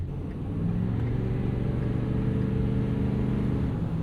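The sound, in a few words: Ford F-350 6.7 Powerstroke diesel truck engine while driving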